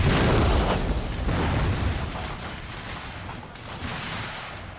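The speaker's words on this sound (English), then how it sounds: "The Union line is firing everything they have." Dense, continuous musket volleys and booming artillery fire roar through a massive Union and Confederate Civil War battle in Total War: Shogun 2, loud and unbroken, with overlapping blasts fading slightly toward the end.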